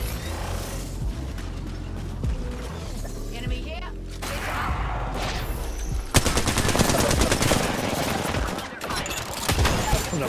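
Bursts of gunfire in the Apex Legends video game, with loud automatic shots and mechanical clatter, intensifying in the second half, while a player talks over the action.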